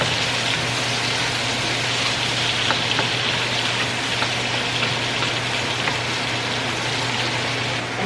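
Onions frying in a pan give a steady, dense sizzle with faint crackles and pops throughout, moderately loud and unbroken, with no talking over it.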